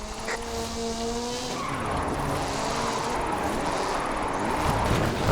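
A car drifting in Forza Horizon 5 at a Mexico drift event, its engine revving up and down while the tyres skid and squeal continuously, loud and close.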